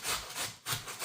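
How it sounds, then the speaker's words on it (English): Potatoes are hand-grated for latkes, rough rhythmic scraping strokes rubbing against a grater, three close passes with no speech. "So I'm going to hand grate 2 potatoes."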